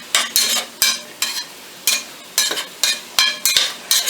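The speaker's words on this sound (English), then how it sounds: "Bacon's starting to cook up pretty good." Bacon and garlic sizzling in a pan while being stirred, a quiet frying hiss broken by regular scraping strokes of a utensil, about eight close, rhythmic scrapes with no voices.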